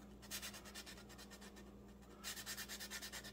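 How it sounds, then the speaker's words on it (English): Sandpaper rubs a cardboard model rocket body tube in quick repeated back-and-forth strokes, a soft rhythmic rasp close by and quiet, with a pause before a final burst of strokes. "We'll just take a little sandpaper"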